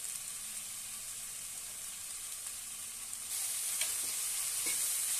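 Kalagayi curry ingredients sizzle steadily in a hot pan while being stirred, a constant bright frying hiss that grows slightly louder partway through, with a few scraping strokes and no talking.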